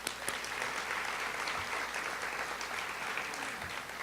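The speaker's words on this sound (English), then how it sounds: "I would love for you to give them another round of applause." Conference audience at a social emotional learning conference applauding the organizing team, a steady wash of many hands clapping at moderate distance, even and sustained, with no voices over it.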